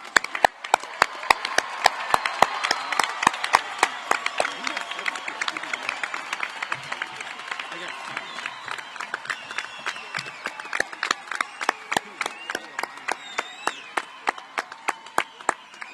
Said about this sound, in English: let's give the class of 2023 a round of applause.